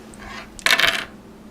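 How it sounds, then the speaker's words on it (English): Four dice from the X-Wing tabletop game rattle and tumble across a surface in a single short burst after a quiet moment, close and fairly loud. "So 4 dice."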